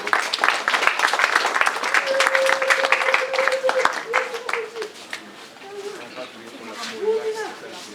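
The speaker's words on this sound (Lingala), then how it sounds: "Applaudissez-nous d'abord." A crowd at a funeral gathering claps together in a dense burst of applause that gradually thins out, with voices speaking and calling over it.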